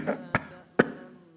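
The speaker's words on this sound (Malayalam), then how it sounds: "അപ്പുറത്തെ റൂമിൽ നിന്നൊരു ചുമ." Three short, muffled coughs come from another room, spaced apart against near silence.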